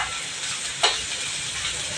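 Ridge gourd peels and green chillies sauté in a hot pan, giving a steady close sizzle with one brief clink partway through.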